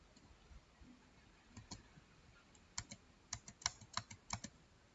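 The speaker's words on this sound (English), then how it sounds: "we have to type here some any round figure values" Values are typed on a computer keyboard for map scale settings in ArcGIS, starting as scattered clicks then quickening into a run of close, crisp keystrokes, with no talking.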